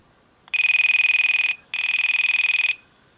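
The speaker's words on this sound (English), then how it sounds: "So one of the things I do want to do is hear the ringtone." A 1990s NEC P3 mobile phone plays its electronic ringtone in two loud, close, sustained bursts with a short gap between them. No one speaks.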